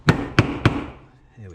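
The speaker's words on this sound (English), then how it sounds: "Yeah, let's just prick punch it. Make sure that this don't come out." Three sharp metallic hammer strikes on a prick punch mark a metal engine part of a 2009 Raptor 350, spaced about a third of a second apart, close and loud, each ringing briefly before fading into quiet.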